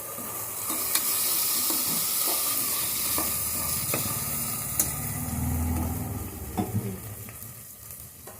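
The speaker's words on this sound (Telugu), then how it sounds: "అల్లం వెల్లుల్లి పేస్ట్ ఎర్రగా అయ్యే వరకు వేయించుకోవాలి" Ginger garlic paste fries in a pan for bagara rice, a steady close sizzle with a few sharp clinks of stirring, no talking.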